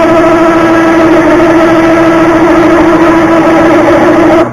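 Lathe drilling with a 31/32 inch drill at 360 RPM, a loud, steady mechanical hum with a sustained tonal whine, unbroken until a slight drop at the very end.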